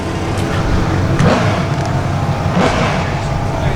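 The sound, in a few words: diesel drag racing vehicles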